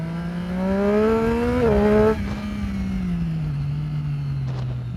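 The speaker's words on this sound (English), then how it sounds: "The triple cylinder sounds pretty good." A 2015 Triumph Daytona 675R with a triple-cylinder engine and Arrow exhaust revs up through a gear, briefly dips on a shift, then settles into a steady drone that gradually eases off, loud and close.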